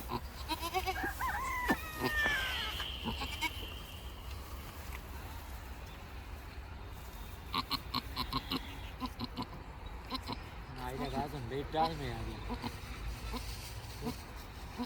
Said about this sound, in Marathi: आता शेळीची करड काढणार